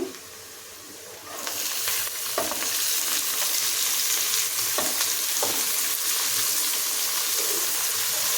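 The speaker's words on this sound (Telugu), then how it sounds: "ఇప్పుడు ఉల్లిపాయ వేగిపోయింది కదండి, క్యాబేజీ వేసేస్తున్నాను" Chopped cabbage tipped onto fried onions in hot oil, then a steady loud frying sizzle with a few scraping stirs, close up and without talk.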